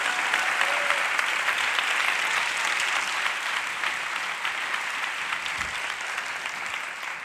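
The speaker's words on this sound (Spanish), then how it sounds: "Un fuerte aplauso" A large audience at a live talk in Valladolid applauds steadily and loudly, a dense, sustained wash of clapping that carries evenly through the whole stretch with no voices over it.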